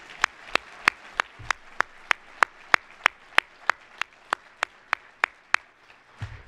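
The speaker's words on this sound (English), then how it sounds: "Let's give them all a round of applause," Slow, evenly spaced clapping at a recognition event: about twenty distinct, close claps in a steady rhythm, sparse rather than a dense crowd, fading out at the end.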